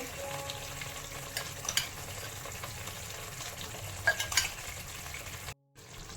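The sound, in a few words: potatoes added to fried spice masala in a pan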